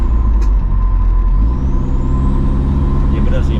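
Toyota Innova V 2014 with a drag-spec 2KD diesel engine, its exhaust a loud steady low drone heard from inside while cruising, with a faint high whine above.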